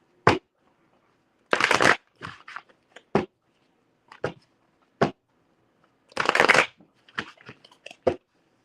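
A deck of playing cards is shuffled in quick riffles and bridges, close and fairly quiet, with two longer riffle bursts among short snaps and taps spread over several seconds against silence.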